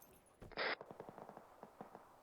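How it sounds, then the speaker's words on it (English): Gunfire in a Desert Storm military video game: a short burst of quiet, closely spaced shots followed by a bright blast of noise, then a rapid rattling run of about a dozen faint pops. "What's the gunfire?"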